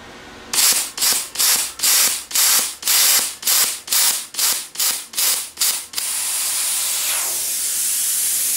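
An Everlast Power Plasma50 plasma cutter set to 25 amps sputters in about ten loud, rhythmic hissing bursts, then settles into a continuous steady hiss of air.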